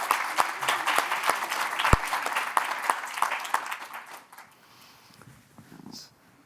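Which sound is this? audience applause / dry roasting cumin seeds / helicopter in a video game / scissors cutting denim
audience applause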